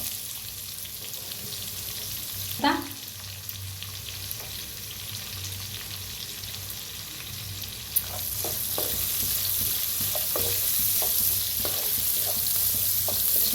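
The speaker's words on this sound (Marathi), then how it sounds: "असं भाजून घेऊया बघा हलकासा असा कांदा भाजलेला आहे" Onion frying in a pan for sambar, a steady close sizzle with a few scattered spoon scrapes and ticks, the hiss growing slightly fuller toward the end.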